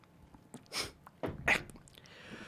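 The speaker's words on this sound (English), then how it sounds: "gonna need to blow my nose again" Someone blows their nose close by in a quiet room, producing two short, forceful nasal bursts about a second apart.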